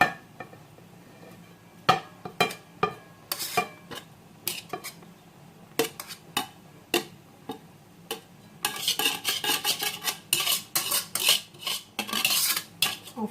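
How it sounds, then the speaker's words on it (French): A whisk works through steamed semolina in a couscous pot, giving light metallic taps and scrapes against the pot at an uneven pace. The taps get faster and busier toward the end. "Vous allez reprendre votre fouet, vous allez descendre comme ça la semoule"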